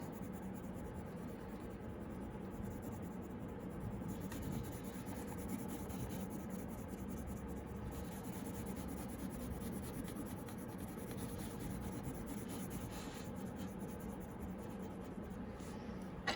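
Soft, continuous scratching of a colored pencil on paper, close and quiet, with short strokes and brief pauses between passes.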